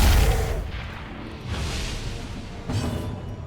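Cannon shot attack in a video game: a heavy booming blast, then two more deep thumping bursts with rumbling tails, loud and close, with no talk.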